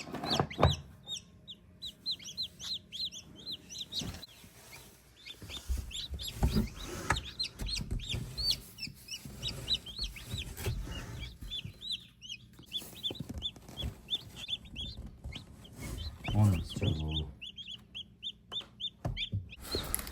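Newly hatched baby chicks fresh from an incubator peep constantly in rapid high-pitched chirps, with some fowl clucking mixed in and occasional handling noises, close and lively.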